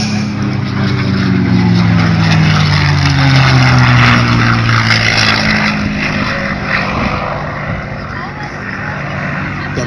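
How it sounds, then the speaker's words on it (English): A P-51 Mustang's Rolls-Royce Merlin V12 piston engine roars past, rising to a loud, throaty drone and then fading as it passes. "Rolls-Royce Merlin engine. It's a V12. It has a purr"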